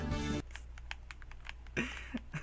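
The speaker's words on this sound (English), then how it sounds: "if that dialogue noise wasn't so annoying" Rapid ticking text-scroll blips from dialogue boxes in the video game Parasite Eve, a quiet, fast stream of small clicks after a brief burst of louder game sound.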